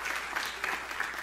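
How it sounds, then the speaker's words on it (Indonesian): Church congregation applauding during a sermon, a short burst of steady broadband clapping at moderate distance with a faint voice underneath. "Tepuk tangannya paling meriah buat Allah kita."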